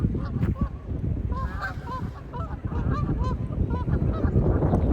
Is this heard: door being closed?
no